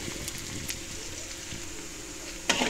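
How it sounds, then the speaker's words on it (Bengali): Onion and garlic frying in oil as a base for gourd greens: a soft, continuous sizzle close by, with a louder burst of crackle near the end. "লাউ শাকটাকে বাগার দেওয়ার জন্য এই যে পেঁয়াজ আর রসুনটা ভেজে নিচ্ছি"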